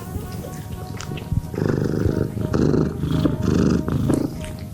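A middle-aged spayed female cat at a shelter purrs close up in steady rumbling waves, growing louder after a quiet start and continuing without pause.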